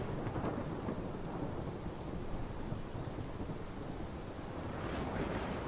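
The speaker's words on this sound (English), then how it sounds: "That fat ass tornado." Tornado storm in the Life Is Strange video game, a steady dense roar of heavy rain and rumbling thunder, broad and continuous throughout without speech.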